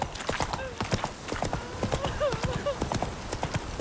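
Horse hooves clip-clop in a steady walking rhythm in the video game Witcher 3, close and clear, with faint vocal sounds in the background.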